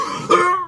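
A single short cough, close and fairly loud, with a brief throaty burst in the middle of the clip and no talk around it.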